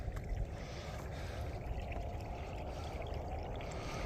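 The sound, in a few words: water flowing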